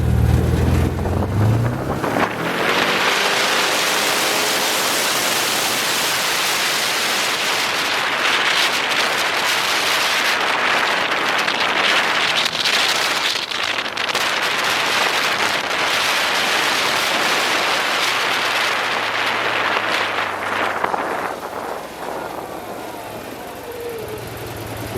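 A 2016 Can-Am Commander XT 1000 side-by-side in sport mode revs and accelerates hard, a loud sustained engine roar building for about twenty seconds before easing off to a lower idle.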